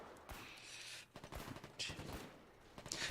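Long rifle gunfire in a video game, a quick scattered volley of sharp cracks and popping shots at moderate distance, coming in clusters over background game noise.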